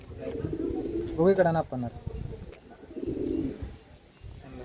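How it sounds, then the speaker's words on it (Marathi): Pigeons cooing in a loft where quality breeding birds, including a hen, are kept, heard in low murmuring bursts beneath ongoing conversation between people nearby. "क्वालिटीचं कबूतर आहे."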